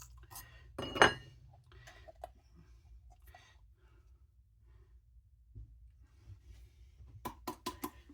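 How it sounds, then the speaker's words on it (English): Faint kitchen sounds of membranes being scraped from peppers in a dish while stuffed peppers are prepared, with a sharp clink of utensil on dish early on, soft scraping and breathing, then a quick run of light taps near the end. "I'm gonna operate on the membranes in here."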